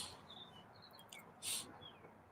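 Buzzards call in a video game with short, thin, high chirping cries scattered across a couple of seconds, followed by one brief louder burst, all over a low steady background hum.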